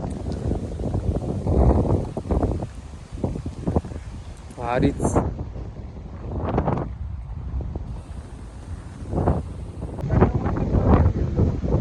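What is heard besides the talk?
strong wind blowing at the seashore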